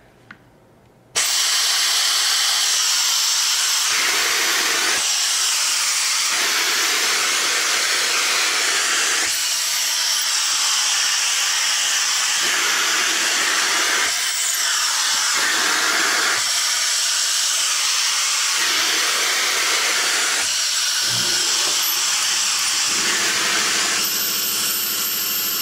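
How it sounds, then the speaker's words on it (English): A Piab vacuum gripper hisses loudly and continuously as it pulls about 48 SCFM of airflow to lift a bag of liquid nacho cheese, a strong steady rush that starts abruptly and swells slightly in repeated waves. "We have about 48 SCFM of vacuum flow through the gripper, so we should be able to pick this bag up no problem."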